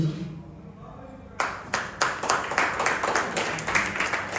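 A theatre audience breaks into clapping for an actress after a play, the applause starting abruptly and continuing as steady, fairly close rhythmic claps after a brief murmur.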